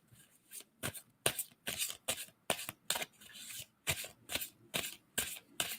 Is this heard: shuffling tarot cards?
yes